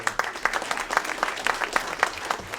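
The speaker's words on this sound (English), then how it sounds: "Let's have a nice round of applause for Nolan Mesa." Audience applause fills a banquet hall at the New Smyrna racing season awards, a steady wash of many hands clapping with brief sharper peaks, heard close and continuous throughout.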